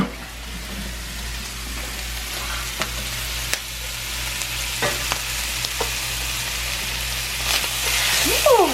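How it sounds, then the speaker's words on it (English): Sausage browning in a pan, a steady close sizzle and crackle with scattered sharp pops and spits over a low hum, swelling slightly louder toward the end, no talking. "I'm gonna brown the sausage really good."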